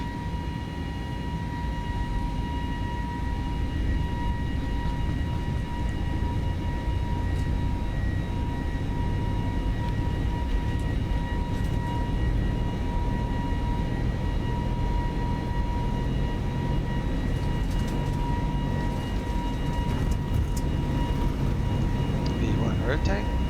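Airbus A320 engines spool up during the takeoff roll in a flight simulator, a loud, steady roar with broadband rush and constant whining tones that holds throughout.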